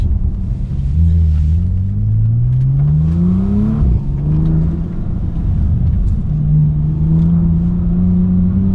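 A 2020 Bentley Continental GT engine rumbles loudly nearby through its exhaust line, the note rising as it revs up, dropping, then climbing again in a deep, throaty drone.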